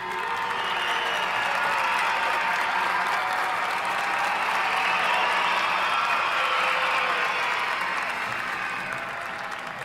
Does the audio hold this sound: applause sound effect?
yes